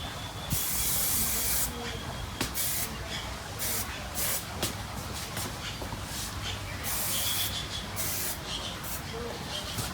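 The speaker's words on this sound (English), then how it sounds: "Then I'm gonna add a little bit of more the finishing hairspray." Finishing hairspray hisses from a travel-size can onto hair in repeated bursts, some long and some short, fairly close.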